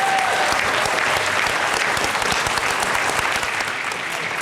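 Audience at a county district attorney candidate forum applauds the candidates, a dense, even wash of clapping sustained throughout at a steady level.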